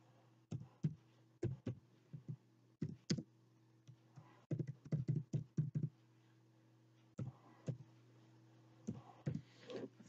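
A Google Form title is typed on a computer keyboard: clicky keystrokes come singly and in short quick runs over a low electrical hum, with no speech.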